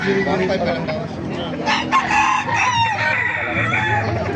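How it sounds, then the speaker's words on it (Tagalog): Roosters crow repeatedly at a busy market for fighting cocks in Baliuag, with clucking from many caged birds and people talking nearby throughout. "napakarami pa manok dito sa Baliwag"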